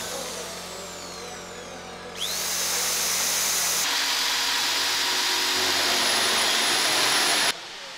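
A power drill bores holes in aircraft parts at an Airbus shopfloor competition, a loud sustained whine that spins up abruptly, holds steady for several seconds and then cuts off sharply.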